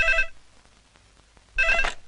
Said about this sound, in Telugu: అదిగో ఆయన ఫోన్.